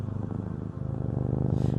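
A cat purrs steadily and close up, a continuous low rhythmic rumble with a faint breathy pulse running alone throughout.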